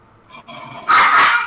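A dog barks in a home during an online tabletop role-playing session, with a faint yelp first and then a loud, close burst of barking near the end.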